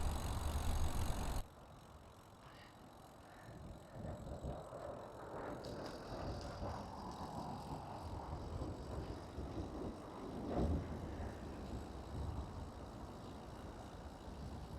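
Steady rumbling wind buffets a Boya wireless microphone clipped at chest height while cycling into a headwind, a dense low roar that holds throughout, with faint rattles and road noise underneath and no talking.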